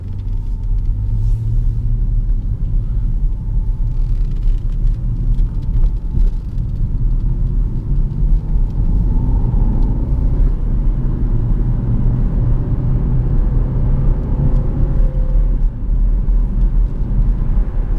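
While a Jaguar XF 5.0 V8 S is driven, a deep, continuous engine rumble with a low tonal drone fills the cabin, rising and settling slightly, without any talking.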